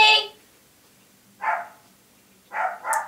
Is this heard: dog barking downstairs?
yes